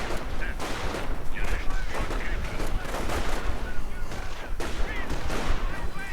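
Rifle fire from infantry in a WWII strategy game, with dense crackling shots and bursts popping over a busy battle din. A voice is also present.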